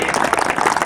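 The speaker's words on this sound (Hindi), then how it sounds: "जोरदार तालियां एक बार विधायक महोदय के" A brief burst of dense crowd clapping for an MLA at the opening ceremony of a night cricket tournament on a sports ground, loud and continuous for under a second.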